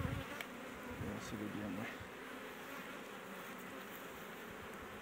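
Honey bees hum in a dense, steady swarm around an opened beehive during spring hive work, with frames of hawthorn nectar lifted out. A voice speaks briefly at the start over the close, continuous buzz.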